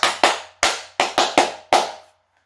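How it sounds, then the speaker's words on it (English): Seven sharp hand claps in an uneven burst, close and loud, each with a quick decay, ending in silence; one person clapping celebrating a Concord Rangers goal in a Football Manager 2020 match. "That's my little Franceskovic clap for you"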